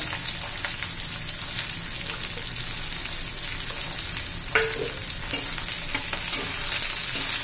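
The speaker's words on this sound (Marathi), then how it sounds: "त्याचा फक्त कच्चेपणा जाईपर्यंत आपल्याला परतून घ्यायचं आहे, जास्त वेळ परतायचं नाही आहे" Plenty of garlic, ginger and onion sauté in hot oil for soybean chilli, filling the pan with a loud, continuous crackling sizzle and occasional soft stirring scrapes.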